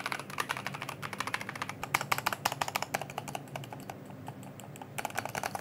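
Rapid, continuous clacking of keys on a Logitech mechanical keyboard with GX switches, close and crisp, with an uneven typing rhythm and no talking.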